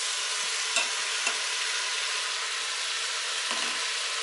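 Vegetables sauté in oil inside a Power Pressure Cooker XL, giving a steady, even sizzle throughout with a few faint utensil scrapes from occasional stirring.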